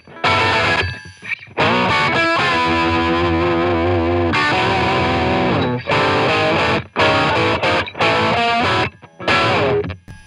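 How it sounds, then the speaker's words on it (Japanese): An electric guitar plays through a Line 6 Catalyst amp with the boost engaged, giving loud, thick distorted chords and sustained notes in several bursts separated by short pauses. "これもちょっとブーストです"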